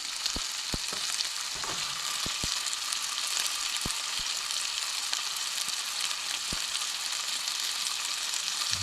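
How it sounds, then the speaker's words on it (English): Chopped pork sausage browns in a pan with a constant bright sizzle and scattered sharp pops and utensil taps, close and fairly quiet. "Get some pork sausage all chopped up here and get it all browned nice."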